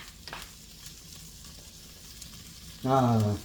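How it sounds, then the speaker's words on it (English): Ingredients for a western omelet frying in a pan, a soft continuous sizzle, with a brief louder tonal burst near the end. "So we're just going to give this a quick, 3-minute fry"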